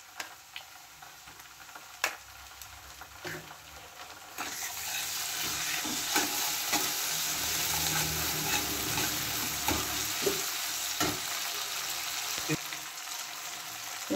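Onions frying with ginger paste and garlic paste in a pan, quiet at first with a few light taps, then a sudden loud, steady sizzle as the paste goes in, with scattered stirring clicks.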